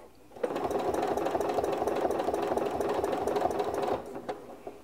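A sewing machine stitches steadily during ruler quilting, its needle running at a fast even rhythm close by for several seconds before stopping.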